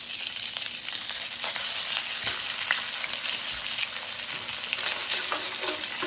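Polenta slices sizzle and crackle steadily in a hot pan after being flipped, a dense, close frying hiss with scattered pops and faint utensil clicks, running unbroken for the whole stretch with no voices.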